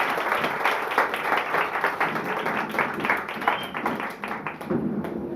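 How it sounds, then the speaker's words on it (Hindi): An audience at a Christmas church service applauds the skit team, with dense, steady clapping that fills the room for several seconds before it thins toward the end. "ये स्किट के पूरी टीम के लिए हम लोग सच में ताली बजा के बोलना चाहिए"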